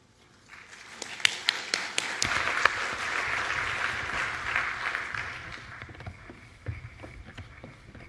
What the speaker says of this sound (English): So just I invite all of the speakers and give them a round of applause.